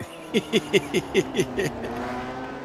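Koff race car at Brands Hatch in Grand Prix Legends passes close by, giving a rapid string of about eight sharp, loud engine pulses, like quick downshifts or blips, before the roar fades into a steadier background drone.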